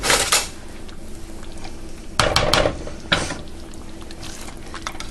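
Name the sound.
ladle and serving bowl being handled in kitchen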